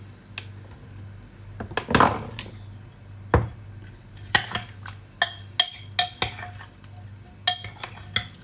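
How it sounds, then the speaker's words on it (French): Salt being stirred into chopped lacto-fermented vegetables in a bowl: a run of sharp utensil clinks and scrapes against the bowl, irregular but steady, close and fairly loud, with no talking. "Et on va venir mélanger."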